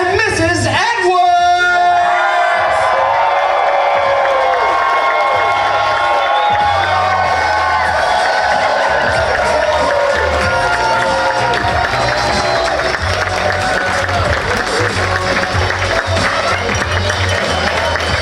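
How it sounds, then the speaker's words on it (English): Wedding guests at a reception cheer and whoop loudly for the newlyweds, a dense crowd roar sustained throughout with clapping mixed in and music or voices underneath. "I want you to make as much noise as you can for your newlyweds, Mr. and Mrs. Edwards!"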